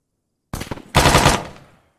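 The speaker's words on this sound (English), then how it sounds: "I'm going to attempt to see if I can shoot this guy here." Two quick bursts of automatic gunfire from an enemy engagement in the military shooter ARMA 3, sharp and close, with a short gap between them and a fading tail.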